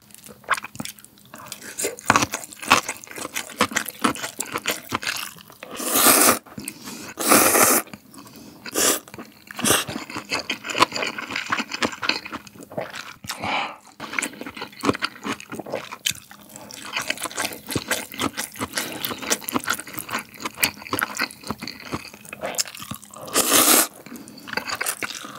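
Close-up wet slurping and crunchy chewing of spicy Shin Ramyun The Red noodles with burger-style tteokbokki and gimbap, irregular bites, sips and smacks continuing loud and near throughout without talking.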